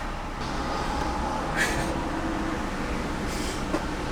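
A car engine idles steadily after being restarted despite a weak battery, a continuous low rumble with broadband noise and no talking.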